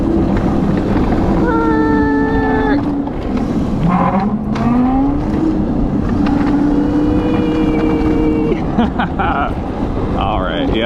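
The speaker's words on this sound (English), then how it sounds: "Kudos on the drifting Go Kart 2 Segway." A Segway Go Kart 2 electric kart drifts at a CES 2024 test ride, a loud continuous whine of the motor rising and falling with tyre noise and wind buffeting throughout, with people talking over it.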